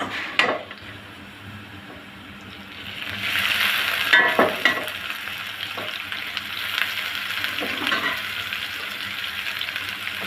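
Gourd greens fry with golden onion and garlic in a hot pan, giving a steady sizzle with several sharp spatula scrapes and clinks as the greens are stirred close by.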